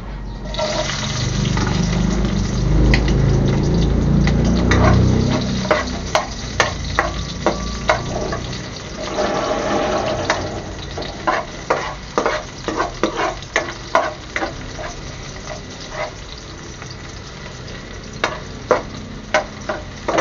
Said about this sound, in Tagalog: At lagay na natin yung sibuyas at bawang.